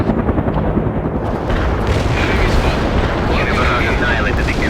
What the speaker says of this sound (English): Heavy barrage annihilated the enemy at coordinates.